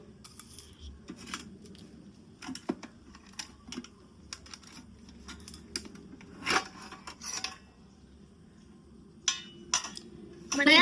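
A child's lunch box and a small curry container are handled, giving quiet, scattered clicks, taps and light clatters of lids and containers with pauses between them.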